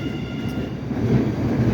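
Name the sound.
MBTA Orange Line subway train passing at Roxbury Crossing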